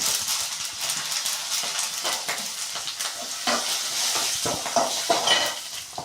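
Black sesame seeds and spices for tomato chutney sizzle in a pan, with frequent close scraping and clinking of a spoon stirring against the metal.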